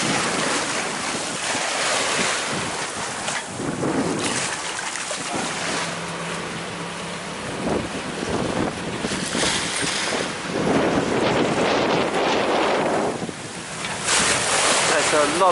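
Water sloshes and rushes around a boat anchored in shallow sea while wind buffets the microphone, a steady loud wash of noise throughout with stronger surges near the end.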